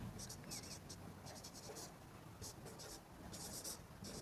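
Chalk or marker scratching on a board during a maths lesson on arithmetic progressions, short scraping strokes in bursts with pauses, fairly faint against a steady low room hum.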